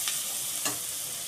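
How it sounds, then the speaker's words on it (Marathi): Whole green chillies sauté in hot oil in a pan for a dal tadka, a steady close sizzle with two quick stirring scrapes, no talk. "त्या पण आपण असं परतून घेणार आहोत"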